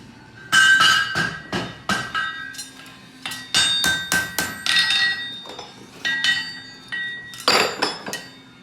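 A farrier hammers a horseshoe on an anvil at a horseshoe-making competition in Newmarket, giving loud, bright metallic dings in quick irregular bursts with short pauses between, ringing close by with no talk.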